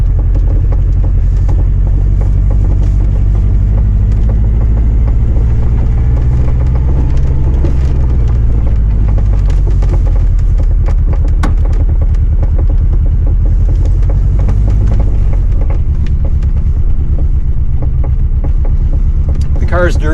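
A Ferrari 308 QV rolls across a gravel yard in winter, its engine a steady low rumble with crunching and popping texture throughout, loud and close for the whole stretch with no voices.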